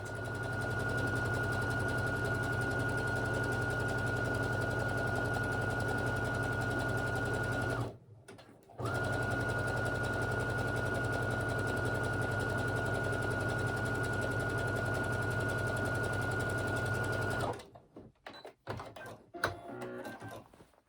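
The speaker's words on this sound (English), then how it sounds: "I am literally just going to sew a couple of millimeters into the seam allowance just to give it a little bit of extra" A sewing machine stitches a seam allowance on leggings in a steady, even whir, running continuously for about eight seconds, pausing briefly, then running again for another long stretch before stopping with a few clicks.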